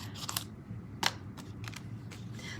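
Scissors snip through paper for a handmade strawberry-themed greeting card, a few crisp, close cuts spaced irregularly with faint handling rustle between them.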